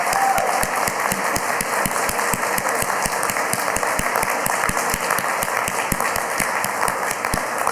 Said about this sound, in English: Now please give them a rousing round of applause.